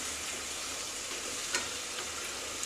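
Ginger and jhinge bori curry sautéing in a pan, a continuous close hiss of frying with faint stirring scrapes and no talk.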